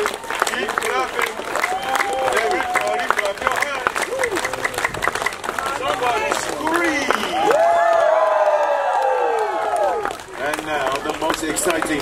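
Family members clap their hands in quick rhythmic bursts outdoors, with voices calling and talking over the clapping and a short high squeal partway through.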